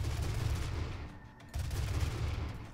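Gunfire from the video game Doom comes as a rapid, rumbling volley of low booms that fades briefly mid-way and then resumes, loud and close.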